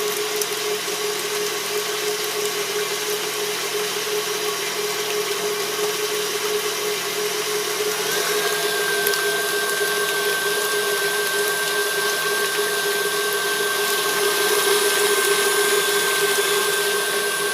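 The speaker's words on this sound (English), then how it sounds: "We're going to whisk these until the peaks form." An electric mixer whisks egg whites for a tres leches cake, a steady loud motor whine running nonstop, shifting slightly in pitch partway through as the whites thicken, with no talking.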